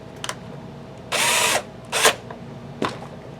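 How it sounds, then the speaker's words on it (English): An electric screwdriver set to its lowest torque drives screws into a DIY in-ear monitor workstation, giving one half-second whir, a shorter second burst and a brief final buzz, close and loud between quiet handling sounds. "I've got it at the very lowest torque setting on my screwdriver here"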